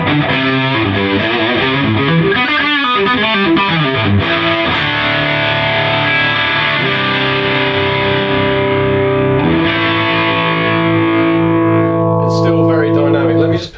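Electric guitar played through a Suhr Riot distortion pedal with the gain set around one or two o'clock, giving a loud, sustained, saturated tone of chords and riffs that rings continuously throughout.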